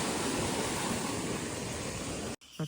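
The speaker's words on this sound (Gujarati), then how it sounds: "આમાં તમારે નાહવું હોય તો નાહી પી શકો છો પાણી એકદમ મસ્ત રીતે આવે છે ઉપરથી" Water pours down from above into a bathing spot at a forest temple site in the Barda hills, a loud, steady, close rushing roar that cuts off abruptly, followed by a brief faint sound.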